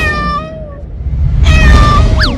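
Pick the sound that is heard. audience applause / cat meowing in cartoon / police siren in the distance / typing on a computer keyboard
cat meowing in cartoon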